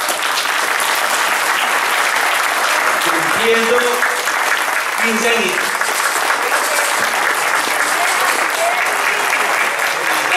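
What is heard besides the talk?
audience applause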